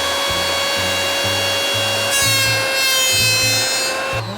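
Brand-new electric planer running steadily on uneven rattan, a loud continuous motor whine with rising, rasping surges as the blade bites intermittently and struggles to cut, no talking.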